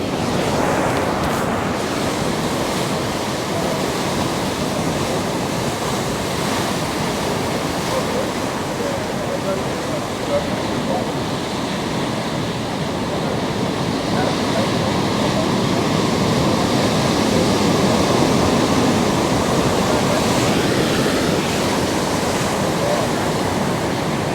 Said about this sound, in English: But given the low pressure system we got off the coast, it's producing waves today.